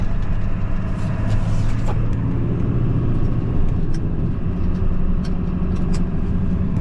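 A 7.3 Powerstroke diesel pickup truck on a road test drive, its engine rumbling steadily and loudly from inside the cab as it pulls and gathers speed, with no voices.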